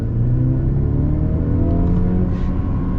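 A 2024 Mercedes C300 C-Class base model pulls away under acceleration, its engine a steady loud whirring rumble that holds level throughout with no voices over it.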